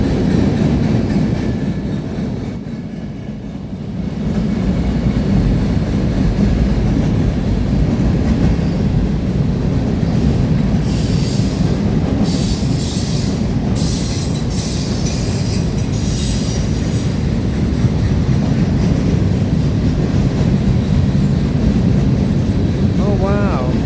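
A CPKC freight train led by a GP38-3 locomotive rolls past close by, giving a loud, steady rumble of wheels and cars with faint squeals and clatter, continuous for the whole stretch.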